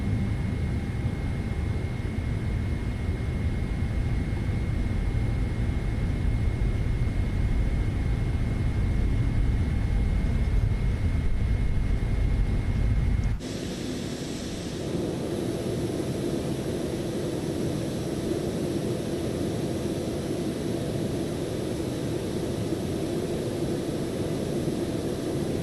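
Boeing 777 jet engines after takeoff in Microsoft Flight Simulator 2024 with a custom sound pack, a steady loud broadband roar with a faint whine that abruptly drops to a quieter, thinner hiss midway through.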